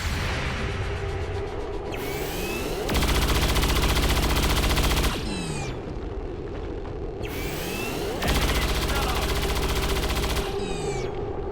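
Overwatch gunfire in XCOM 2 bursts out in two loud, sustained volleys of rapid automatic fire, each lasting a couple of seconds, over a busy game soundscape with whooshing effects in between.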